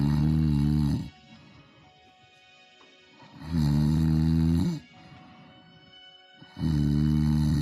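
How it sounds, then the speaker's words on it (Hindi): A lion snores loudly while sleeping: three deep, rasping snores, each lasting one to two seconds, separated by quiet pauses with a faint breathy rustle. "जंगल का बादशाह शेर बड़े मजे से सो रहा था और खर्राटे ले रहा था"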